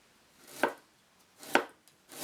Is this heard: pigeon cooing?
no